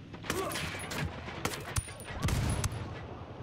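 Gunfire in the video game Ghost Recon: a string of sharp, irregular shots cracking over busy battlefield noise, with a few louder bursts near the middle and end.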